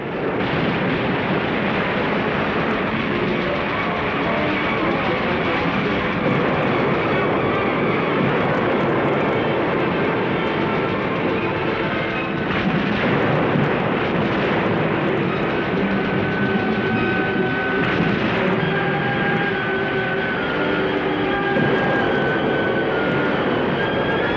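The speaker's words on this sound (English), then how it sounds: "Planes bomb and strafe." Military aircraft engines roar steadily and loudly throughout as planes bomb and strafe at Iwo Jima in 1945, a dense, unbroken drone with rumbling underneath and no pauses.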